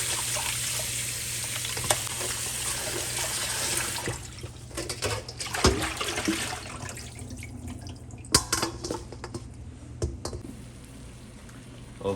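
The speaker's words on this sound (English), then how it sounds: "Just going to rinse it off one more time." Salt mackerel being rinsed under running tap water, a steady close wash of splashing and trickling with small handling knocks and clicks, no talk.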